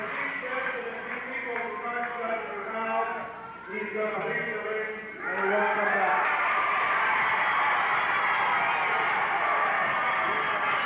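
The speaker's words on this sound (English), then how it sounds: "The crowd is chanting USA." Wrestling crowd chanting USA in the arena: someone talks over a distant murmur at first, then the crowd swells into a loud, sustained roar that carries on alone to the end.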